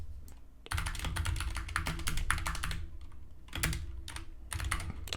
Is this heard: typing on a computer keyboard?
yes